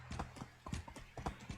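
Horse hooves clip-clop in an uneven rhythm of several distinct strikes in the medieval life-simulation game Medieval Dynasty, close and clear over a low steady background hum.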